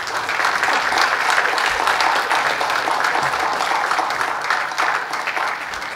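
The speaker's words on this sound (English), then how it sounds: "I ask you to applaud the Ambassador of India" Steady, dense applause from a hall full of delegates at a UN launch, honouring the Ambassador of India, even and sustained throughout without voices.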